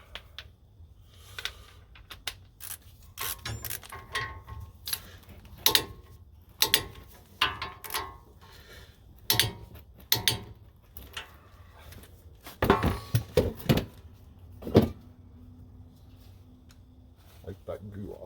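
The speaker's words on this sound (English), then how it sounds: "using your torque wrench and your deep 17, torque those to 80" A torque wrench with a deep 17mm socket tightens the front brake caliper bolts on a Toyota Tundra, giving irregular close metallic clicks and ratcheting knocks with clanks between, while a person talks.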